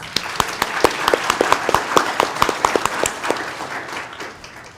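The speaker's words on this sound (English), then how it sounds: "Let's give them a round of applause." At an employee recognition awards ceremony, a small gathering applauds award recipients with distinct, fairly sparse claps in a loose rhythm, close by and tapering off near the end.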